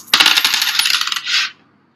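Coins tossed and clattering onto a hard surface during a classroom probability experiment: a burst of rapid metallic jingles and clinks, close and loud, ending in a brief ringing spin before silence.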